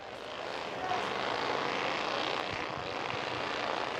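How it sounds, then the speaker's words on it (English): Bandolero race cars pull onto the Midvale Speedway, a steady broadband engine roar that swells slightly and holds, heard from a moderate distance. "coming out on the raceway right now is our Red Air Bandoleros"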